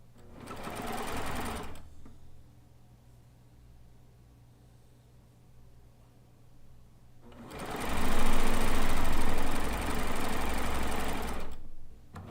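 A sewing machine stitches quilt pieces from a Kaffe layer cake at a 2.5 stitch length, running in two loud bursts of whirring separated by a quiet pause.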